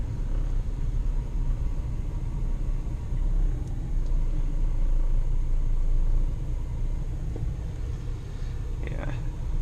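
An old truck's engine idling at a steady low rumble inside the cab, close and constant, with faint clicks and light mechanical ticks near the end.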